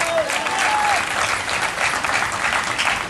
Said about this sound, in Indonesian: Mana tepuk tangan?